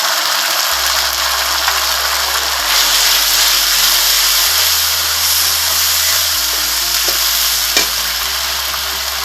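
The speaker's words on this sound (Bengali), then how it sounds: "মশলাটাকে কষিয়ে নেব।" Ground spice paste with turmeric, chilli powder and salt sautés in a hot pan for chicken kasha, a loud close sizzle with scraping stirring strokes throughout, no voices.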